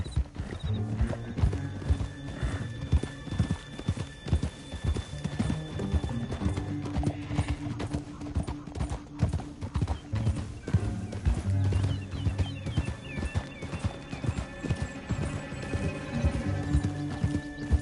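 Horse hooves clip-clopping in Red Dead Redemption 2, an outdoor western setting: a steady, continuous stream of hoofbeats from several horses at a brisk pace, with occasional neighs and background game sound.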